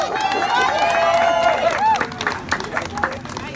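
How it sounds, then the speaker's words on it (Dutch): An audience at a speech event in Wetteren claps and cheers, with crowd noise and voices mixed in, and the applause thins out toward the end. "Geef maar een applaus."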